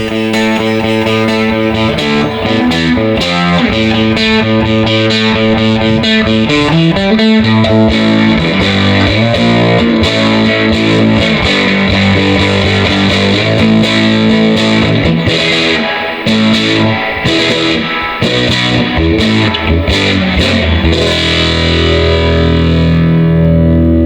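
An overdriven electric guitar plays through a 1970s Fender Twin Reverb amp fitted with JBL speakers, loud and continuous with distorted chords and sustained notes over the whole stretch.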